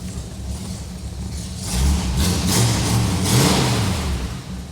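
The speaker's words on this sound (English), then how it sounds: "So dual exhaust, chugging away. It's got a pretty nice lopey little idle to it too." A 1974 Ford Bronco with dual exhaust idles with a lopey, chugging rhythm, a steady low rumble that swells slightly partway through, close by and without talking.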